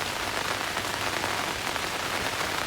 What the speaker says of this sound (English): Started raining right before I woke up.